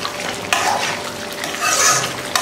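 A spoon stirs egg masala curry with boiled eggs in a pan, with a few scraping clanks against the metal over a soft sizzle, loud and close, with no talking.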